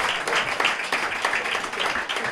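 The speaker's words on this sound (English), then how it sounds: "Another round of applause for the next parliamentary representative of Castries North" Crowd applause at an outdoor political party rally in Castries North, steady dense clapping with cheering throughout, fairly loud and continuous.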